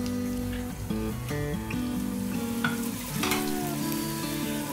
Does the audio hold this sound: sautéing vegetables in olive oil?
yes